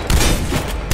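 Shotgun fire in the online shooter Warface, a loud close blast that rings out with a dense burst, then a second shot at the very end of the second.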